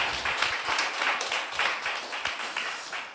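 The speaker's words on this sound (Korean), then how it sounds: "박수 한번 우리 해주실까요?" A congregation at a Korean church Sunday worship service bursts into steady, dense applause, many hands clapping at once for a few seconds at moderate distance.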